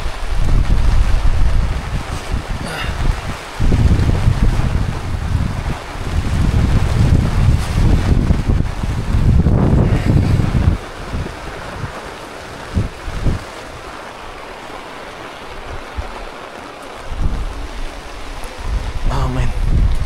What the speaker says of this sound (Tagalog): Ang lamig na, tapos ang lakas pa ng hangin. Tapos may ulan pa.